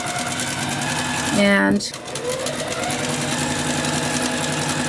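A sewing machine stitches a tote bag seam with a short burst of fast mechanical whirring, then stops. A voice talks briefly around it.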